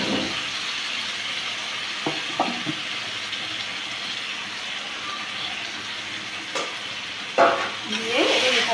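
Marinated mutton tipped into frying onions and stirred for mutton kosha, a continuous hiss of hot oil with occasional spatula scrapes and a louder burst of sizzling near the end, no speech.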